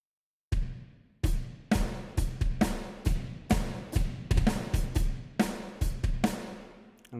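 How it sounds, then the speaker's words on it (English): Orchestral drums from the CTO Metropolis Ark 1 template in Cubase, unprocessed: a sequence of heavy, booming percussion hits in an irregular rhythm, each ringing out and decaying, loud and alone after a brief silence. "So that is the sound of the drums straight out of the box."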